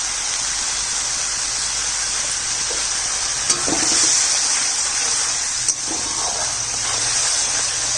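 A mustard and poppy seed paste sautés in a hot pan with a dense, constant hiss, broken by a couple of sharp utensil scrapes near the middle; nobody speaks.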